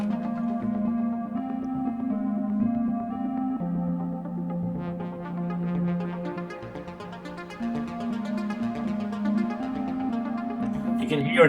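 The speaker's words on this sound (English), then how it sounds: "You can hear an arpeggiator in the background as well." A synthesizer arpeggiator pattern runs in the background beneath steady, sustained synth tones, with the busier rising pattern joining about halfway through and carrying on at an even level, with no talking.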